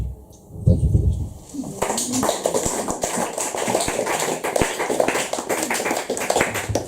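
Live audience applauding after a poetry reading by Ted Smith-Orr, a dense, steady patter of many hands that swells after a brief quiet opening and carries on loudly to the end.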